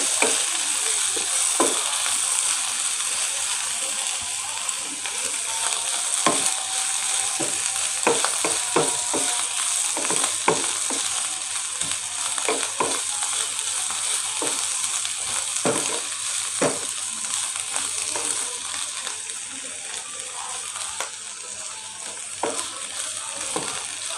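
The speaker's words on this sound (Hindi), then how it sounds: "दो 3 मिनट में ये फ्राई हो जाएंगे।" Bitter gourd sizzles and crackles steadily in a hot pan, with occasional scraping stirs, no voices.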